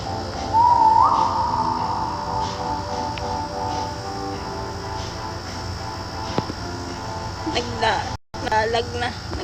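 A person whistles briefly with a thin rising tone while playing Roblox, over steady game sounds and ongoing talk.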